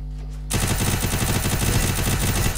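Rapid automatic gunfire from an MP40 submachine gun in the Free Fire battle royale game, a dense loud burst of shots starting abruptly after a brief quiet moment and continuing steadily to the end.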